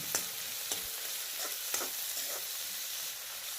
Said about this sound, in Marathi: आता यामध्ये आपण दहा बारा कढीपत्त्याची पानं आणि एक बारीक चिरलेला टोमॅटो घालून घेऊया आता हे सगळं परत आपण एकदा परतून घेऊया